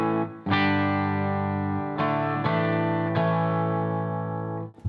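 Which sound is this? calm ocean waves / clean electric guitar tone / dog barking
clean electric guitar tone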